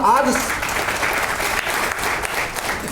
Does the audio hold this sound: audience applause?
yes